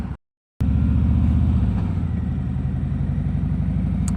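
A motorcycle engine drones steadily while riding, captured on an action camera and clip-on mic: a loud, continuous low rumble with slightly shifting pitch, after a brief moment of silence at the start.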